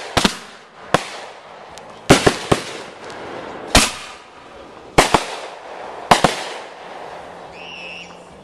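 Rapid-fire fireworks cakes at a 4th of July display, sharp loud bangs arriving in irregular bursts of one or two with crackling tails, a few seconds apart, no talking.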